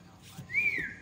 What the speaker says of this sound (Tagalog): Gusto ko yung papitong yun ah.